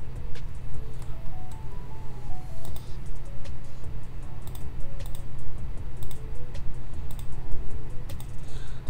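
Rapid computer mouse clicks from manual point selection while removing an image background in Photoshop, sharp close ticks in uneven bursts over a low steady hum, with no speech.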